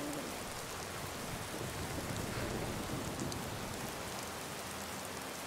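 Rainfall in the video game Skyrim Special Edition: a constant, full wash of rain hiss drumming on surfaces, steady and even for the whole stretch, with no speech.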